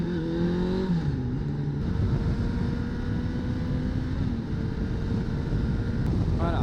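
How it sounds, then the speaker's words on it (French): Wind roars steadily and loudly around a rider's helmet on a Suzuki Bandit 600 roadster at speed, with a faint engine drone and a rising tone early on, unbroken throughout. "À vitesse 110, 120, au niveau du vent, t'entends même plus ton moteur, ça siffle dans le casque."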